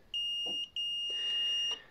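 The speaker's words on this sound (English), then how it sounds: "This cool device here, because it's digital, tells me acoustically when I'm approaching it. You can hear the beep." A digital Rockwell C hardness tester beeps at preload with two steady, high electronic tones, a short one followed after a brief gap by a longer sustained one, clear and close with faint handling noise around them.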